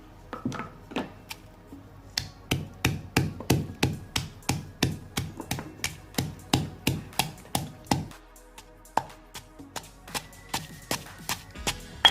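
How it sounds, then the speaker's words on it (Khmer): Garlic and pepper pounded in a mortar with a pestle, a steady run of about thirty sharp, close knocks at an even rhythm, with a short pause partway through before the pounding resumes. "ឡូវយើងដាក់ខ្ទឹម សម្រេចគឺយើងដាក់បុកចូលគ្នាបងប្អូនចា"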